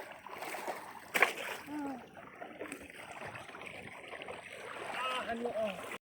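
River water splashing and gurgling in a flowing stream, with intermittent sloshing as chicken is rinsed and moved about, a sharp splash early on.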